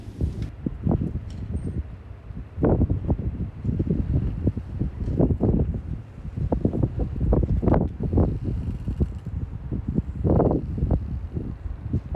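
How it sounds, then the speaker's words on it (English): Strong gusting wind on a sailboat buffets the microphone in uneven low rumbling bursts, loud and continuous with no voices. "And very windy."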